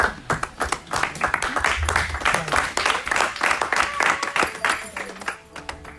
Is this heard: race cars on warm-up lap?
no